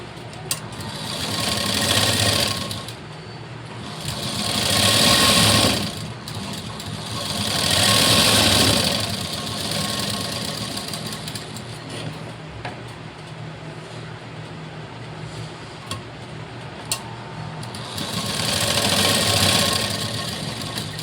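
A sewing machine stitches a strip of blouse fabric, its motor whirring steadily in close, loud bursts that swell and ease several times with short slower stretches between.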